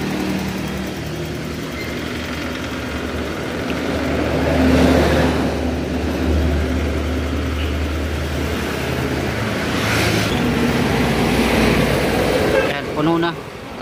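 A Honda Click 125 scooter with a coolant leak and overheating runs steadily nearby, a low buzzing engine drone swelling slightly in the middle, with someone speaking over it throughout.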